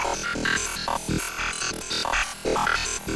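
Gritty granular synth particles scatter in short bursts as a random LFO jumps the playback start position around the sample, producing a jittery, constantly shifting texture that stays loud and steady with no voice.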